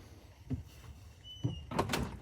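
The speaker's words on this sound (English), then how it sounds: "I'm closing the door." A door is pulled shut with a couple of soft knocks and then a firmer closing thud and rattle near the end, fairly close in a quiet room.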